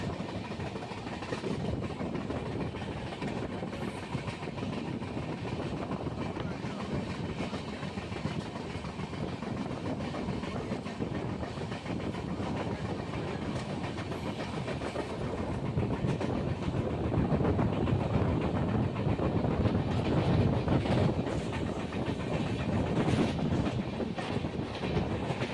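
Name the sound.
Kagaznagar Superfast Express train with LHB coaches running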